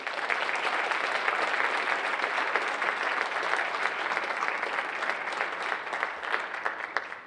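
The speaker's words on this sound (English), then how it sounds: "please join in applauding our 2024-25 National Junior Honor Society members" An audience applauds National Junior Honor Society members at an induction ceremony, a steady, dense wash of many hands clapping that holds evenly throughout without talk.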